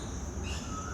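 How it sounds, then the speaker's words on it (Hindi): A single bird calls outdoors in a quiet setting, its thin, high chirping moderately faint and steady against a soft background hum, with no talking. "बाहर के वातावरण में एक पक्षी की आवाज़ आ रही है"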